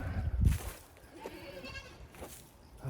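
Baby goats bleat on a farm, with several short, wavering bleats at close to moderate distance over a low thump and background rustle.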